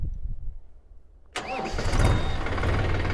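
After a few quiet seconds, a Mahindra Yuvo tractor's large diesel engine cranks and fires up, then settles into a loud, steady rumbling idle.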